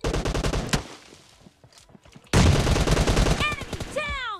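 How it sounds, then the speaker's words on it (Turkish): Gunfire and a grenade blast in PUBG Mobile: dense rapid shots at the start, a quieter gap with scattered pops, then a sudden loud burst around the middle followed by continued firing and whistling ricochet-like chirps near the end. "Bak bomba atıyor yine."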